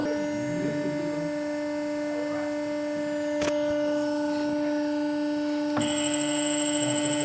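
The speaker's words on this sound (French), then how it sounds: "Donc j'actionne mon petit treuil. Je vois qu'il va pas vite du tout." A small hydraulic winch runs slowly with a steady mechanical hum, joined by a brief click partway through and a brighter whine near the end.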